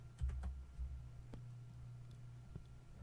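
Several keystrokes click on a computer keyboard in a short burst, then a few scattered taps follow over a faint steady hum.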